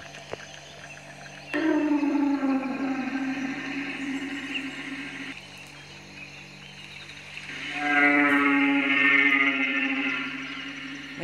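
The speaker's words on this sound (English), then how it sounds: "My roar is literally the same as all of the other roars." Deep, drawn-out roars of an apatosaurus in a survival video game, two long bellowing calls with a layered moaning tone, loud and close, the second rising higher and brighter before fading into a steady ambient hum.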